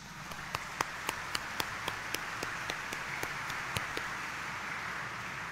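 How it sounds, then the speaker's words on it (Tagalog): A congregation at the Minor Basilica of the Black Nazarene claps in a crisp, regular rhythm of several sharp claps per second, fairly faint over a steady background hiss, with no voices. "pumalakpak ng mas malakas"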